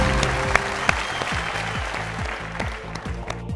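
Studio audience applause for a correct answer on a Bhojpuri TV quiz show, a steady dense clapping that carries on for several seconds with a small rhythmic beat running underneath.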